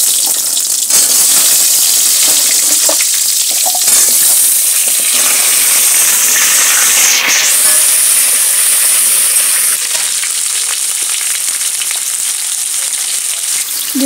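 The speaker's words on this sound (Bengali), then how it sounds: "ফোড়নটা হয়ে গেলে কড়াইতে আলুগুলো দিয়ে দেবো।" Potatoes dropped into hot spiced oil in a wok for Bengali-style basanti polao, giving a loud, steady, close hiss and sizzle that holds evenly throughout and fades slightly toward the end.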